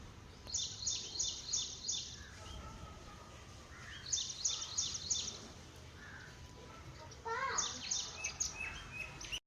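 Sparrows feeding on grain outdoors, with repeated bursts of high, quick chirping in several separate bouts over a steady background hiss, at moderate distance and fairly faint.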